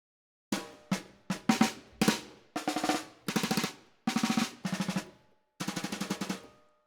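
CinePerc snare drum captured close on a spot mic with a touch of overhead, snares on: a sequence of tight, crisp hits and short rolls, dry and up front with quick decay and no other sounds.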